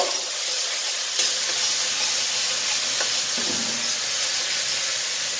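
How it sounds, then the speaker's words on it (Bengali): Ginger and chili paste frying in a pan while being stirred, a loud continuous hiss of sizzling oil with an occasional clink of the spoon against the pan, no talk. "এটাকে একটু নাড়াচাড়া করব।"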